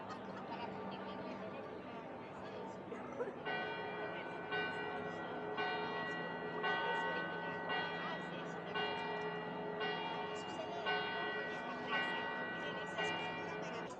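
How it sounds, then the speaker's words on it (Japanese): Church bells peal across Florence near Piazza della Signoria, a steady run of repeated ringing strokes at moderate distance over street ambience and crowd chatter. "街中の教会の鐘が鳴っております。"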